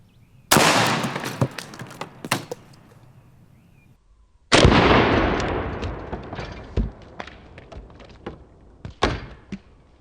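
Two sharp reports from a .50 caliber air pistol firing pellets outdoors, each a loud crack followed by a decaying rumble, with scattered smaller knocks and taps between and after the shots.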